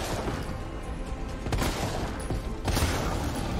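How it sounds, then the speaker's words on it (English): Magnum revolver shots in the video game Resident Evil 3 Remake, heavy booming blasts, with a sharp loud report near the middle and another near the end over dense game noise. "let's shoot him with the magnum"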